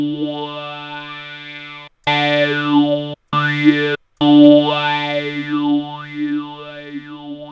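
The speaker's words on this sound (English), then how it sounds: "So yeah, kind of a fun filter, formant filter." Harsh buzzy synth tone through a formant filter, its resonances gliding up and down to form vowel-like O and E shapes, broken by brief silent gaps, loud and alone.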